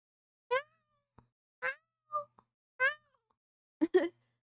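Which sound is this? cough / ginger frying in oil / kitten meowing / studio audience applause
kitten meowing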